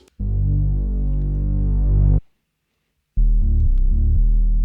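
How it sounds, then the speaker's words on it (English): Omnisphere's Growler Moog Bass preset played dry, without effects: a loud, thick, buzzing synth bass holds one long sustained note, falls silent for about a second, then returns with a shorter run of pulsing notes. "I use this preset from Omnisphere called Growler Moog Bass"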